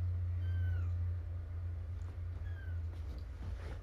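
Kittens meow in short, high, faint calls, two separate mews over a steady low hum.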